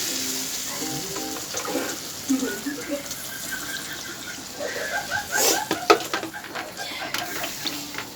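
Water poured into a pan of sizzling spiced fish curry masala with potato, pointed gourd and tomato hisses and bubbles loudly, with stirring scrapes and clinks over a steady fry.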